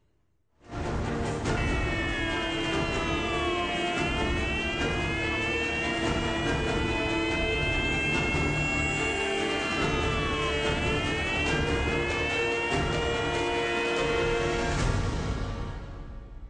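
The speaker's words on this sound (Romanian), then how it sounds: "Sirene urlă" Emergency vehicle sirens wail loudly and continuously at a devastating fire, rising and falling in overlapping sweeps over a steady rumble of traffic and engines, with no talking.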